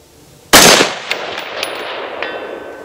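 A single loud rifle shot from a Springfield Hellion 5.56 bullpup fired outdoors in windy Nebraska, its crack trailing into a rolling echo, with faint metallic pings of a steel target being hit shortly after.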